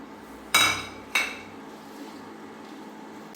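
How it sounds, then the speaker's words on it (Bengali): Two sharp metallic clanks of a pot, about half a second apart, as eggplant pieces go into boiling water, followed by a quiet low simmer. "আমি এখন দিয়ে দেব বেগুনগুলো"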